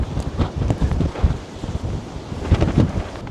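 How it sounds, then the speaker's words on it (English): Gusty wind in Wellington, New Zealand, buffeting the microphone in low, uneven rumbling bursts that swell and ease in irregular waves, with no talking. "windy."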